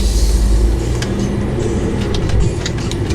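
A 2015.5 Volvo S60 T5 AWD shifted into drive pulls away with a steady, loud low rumble of engine and road noise from inside the cabin, continuous throughout with faint ticks above.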